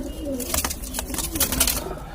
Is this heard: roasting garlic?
no